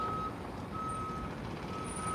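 A truck's reversing alarm beeps in a steady repeating pattern as it turns around at SpaceX Starbase's Rocket Garden high bay in Boca Chica, Texas, over a constant bed of low outdoor rumble and site noise.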